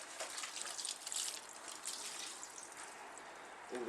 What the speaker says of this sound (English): All the water can go in there from the paper.